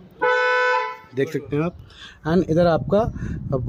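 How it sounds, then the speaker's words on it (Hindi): A Kia Seltos HTX+ diesel sounds its horn in one steady, loud, close blast of a little under a second, followed by someone talking. "काफ़ी अच्छा है, आप हॉर्न भी सुन सकते हो"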